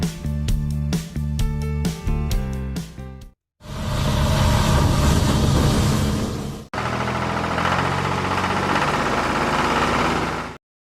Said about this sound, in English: A double drum road roller has steel drums at both front and rear for balanced and powerful compaction.